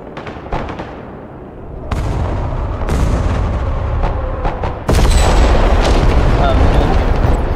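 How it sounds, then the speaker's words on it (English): Artillery fire in the war video game Broken Arrow lands in loud, heavy booms that build to a dense, continuous rumble, with several sharp blasts along the way. "They got artillery."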